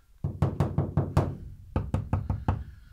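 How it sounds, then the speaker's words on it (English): Knuckle knocks on an interior metal panel of a Mercedes Sprinter 170 extended 4x4 van, two rhythmic series of about five sharp, hollow raps with a slight ringing rattle, close and clear, no talking. "on these interior panels where you've got this loud noise rattle"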